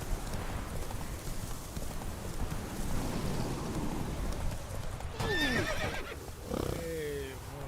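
Roach, Geralt's horse in The Witcher 3, gallops with loud rhythmic hoofbeats and then lets out a sharp neigh partway through, with rain and other ambient game sound behind it.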